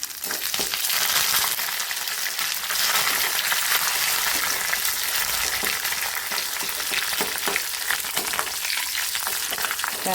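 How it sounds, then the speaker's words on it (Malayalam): Curry leaves frying in hot oil while making an oil mango pickle, giving a loud, continuous crackling sizzle that runs steadily throughout with no talking. "ഇനി നമുക്ക് ഇതിലോട്ടിന് കറിവേപ്പില ഇട്ടു."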